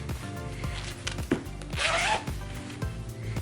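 A zipper on a handmade sewn mini dress is pulled in a few quick rasping strokes, close and fairly quiet.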